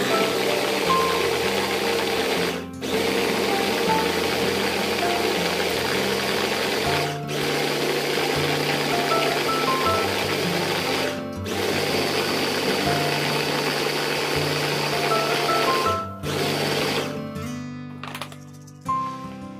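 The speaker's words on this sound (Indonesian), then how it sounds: "Lanjut kita chopper cabenya." An electric chopper grinds chili peppers in repeated bursts of buzzing motor whine, with short pauses between runs and a rattling finish.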